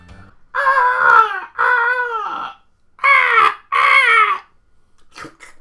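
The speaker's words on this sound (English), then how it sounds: "I actually did the sound effects for this bird." Cartoonish bird calls from the Bob the Builder PS1 video game, four drawn-out warbling squawks in two pairs, loud and close with no other sound.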